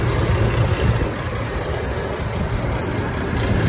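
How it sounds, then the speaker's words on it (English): A 2019 Ford Ranger Super Crew 4x4 FX4 runs at a steady idle, a low, even engine rumble close by and uninterrupted for the whole stretch. "Great sounding engine."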